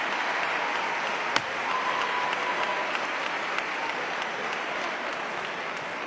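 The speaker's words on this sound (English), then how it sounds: "give a big warm round of applause for the Honorable Minister Louis Farrakhan." Sustained applause from a large audience at a Nation of Islam drill competition, a steady dense wash of clapping that holds at an even level throughout, with no one speaking.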